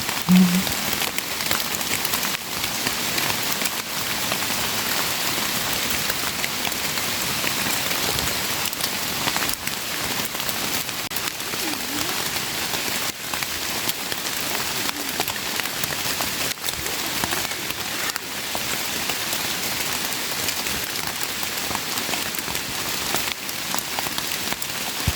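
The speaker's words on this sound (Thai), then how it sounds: "เห็นเห็ดตอนฝนตกครับ" Steady rain falls in the hills, a dense, continuous patter on surfaces at an even level throughout, with no voices and no breaks.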